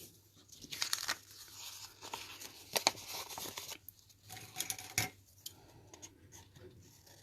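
Designer paper being trimmed for an ornate garden-themed card, giving close, quiet cutting and crinkling sounds in short bursts, some sharper snips and rustles spread unevenly throughout.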